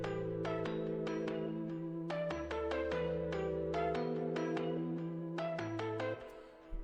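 Arpeggiated chord progression in a beat, rapid repeating plucked synth notes over steady low bass tones, moderately quiet and without voices.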